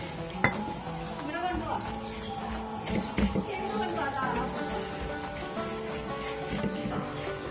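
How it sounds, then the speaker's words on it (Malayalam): Spice masala being stirred with coconut oil in a bowl, a spoon clinking and scraping repeatedly against the dish in an irregular rhythm, close and fairly quiet, with someone talking throughout. "ഇനി നമ്മൾ ഈ മസാലയിലേക്ക് വെളിച്ചെണ്ണ ഒഴിച്ചിട്ട് അത് നന്നായിട്ട് മിക്സ് ചെയ്തെടുക്കണം"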